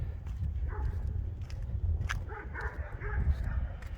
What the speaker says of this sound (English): Dog started barking when I record.